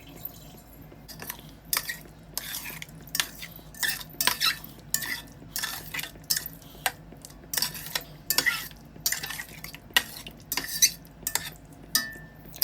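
A spoon stirs ginger, green chili and mint paste into palak paneer curry in a pot, making repeated sharp metallic clinks and scrapes at an uneven rhythm over a faint low sizzle, with no voices.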